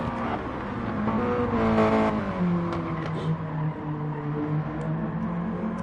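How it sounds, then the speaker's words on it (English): A Mazda MX5 Cup race car in a sim-racing championship round at Tsukuba, its engine revving hard and climbing through the gears, then settling into a steady drone, close and loud with faint tyre noise. "There is the Mazda MX5 Cup car of Dirty 14"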